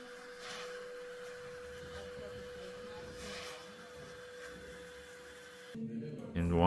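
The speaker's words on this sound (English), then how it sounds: "Here in the department, we do have this vacuum," Small vacuum used in a restoration department to lift deep dirt and dust from a painting's canvas, a steady, fairly quiet whine and hum running throughout before cutting off near the end as a voice begins.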